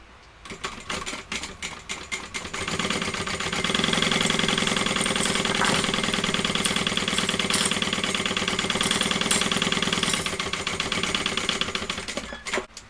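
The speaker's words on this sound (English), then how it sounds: "I'm going to sew with the seam allowance given in the pattern" Sewing machine stitching two layers of fabric placed right sides together, its rapid mechanical whir speeding up to a steady loud hum, then slowing near the end, close and with no talk.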